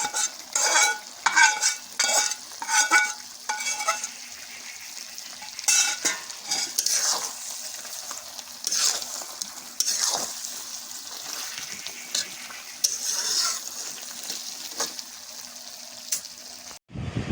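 Cooked chicken for chicken do pyaza is stirred in a hot pan with a freshly fried spice mix, giving repeated close scraping strokes over a low sizzle, with brief pauses between bursts of stirring.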